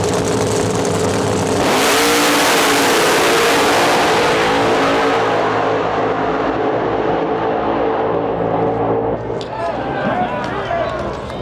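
Pro Mod drag race cars thunder down the track at a Rocky Mountain Nationals event, a loud sustained engine roar with a sharp rise as they launch, slowly fading while a commentator talks.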